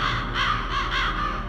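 Several crows caw in a loud, steady series of harsh calls in the Metal Gear Solid video game, with no speech over them.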